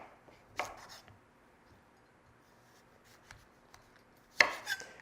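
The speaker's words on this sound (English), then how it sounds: "And then you just cut them into fries." A knife slices sweet potatoes into fries on a board: two crisp cuts separated by a long quiet pause, with faint scraping and handling noises in between.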